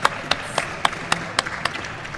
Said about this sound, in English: let's give them a round of applause for being here with us today